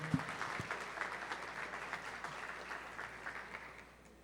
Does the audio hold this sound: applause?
yes